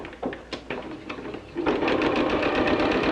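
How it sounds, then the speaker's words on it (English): A sewing machine stitches a quarter- to half-inch seam along layered cotton fabric, its needle starting with a few separate clicks before settling into a steady, close, continuous whirring run. "sew a 1/4 inch, or you could even sew a 1/2 inch"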